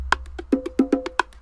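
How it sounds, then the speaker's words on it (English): A bongo loop taps out a quick syncopated pattern of short, resonant hand strikes alternating between higher and lower drums, close and isolated with no voices. "I have this bongo loop down here."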